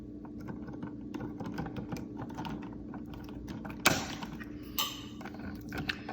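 Small mechanical clicks and scrapes of wire being worked during a light switch replacement, followed by a sharp snip as the electrical wire is trimmed with pliers, and a second fainter cut shortly after, close and quiet.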